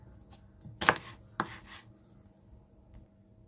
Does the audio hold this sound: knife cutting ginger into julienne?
yes